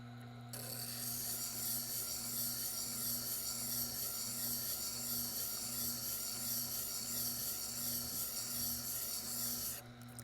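A timber framing chisel grinds steadily against a Tormek wet sharpening wheel, a continuous loud rasping hiss over a low motor hum, starting abruptly and holding even for about nine seconds before stopping.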